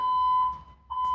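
A pulled building fire alarm sounds a steady, piercing electronic tone that holds, briefly fades and then returns loudly.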